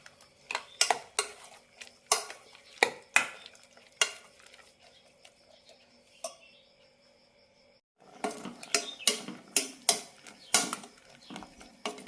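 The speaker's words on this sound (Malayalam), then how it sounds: "രണ്ട് മിനിറ്റ് നന്നായിട്ട് ഇളക്കണം" A spoon stirs ash gourd curd koottu in a pan, making a series of sharp, close scraping clacks in uneven bursts. A quiet pause in the middle is filled by faint simmering.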